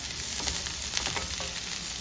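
Steady sizzling of onion sautéing in hot oil in a pan, with faint stirring scrapes, close and continuous.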